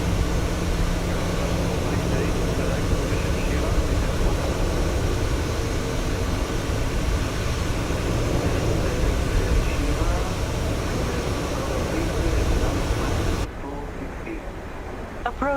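A Boeing 737-800 in MSFS2020 gives a steady, loud engine roar during the takeoff roll for an El Al flight from Tel Aviv, with radio chatter mixed in, before the sound cuts abruptly near the end.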